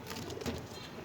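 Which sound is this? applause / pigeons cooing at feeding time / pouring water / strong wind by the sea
pigeons cooing at feeding time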